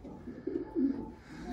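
Racing pigeons in a loft give low, soft cooing in a few short rounds, fairly close and fairly quiet.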